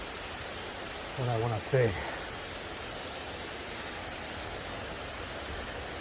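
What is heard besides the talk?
small waterfall, Sulphur Creek Falls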